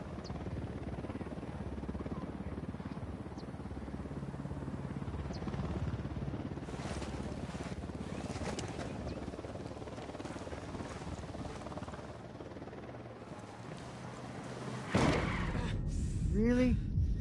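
Helicopter in the video game Ghost Recon Wildlands approaching with a steady, dense rotor drone that fills the scene throughout, under intermittent voices, with a louder burst and sweeping tones near the end.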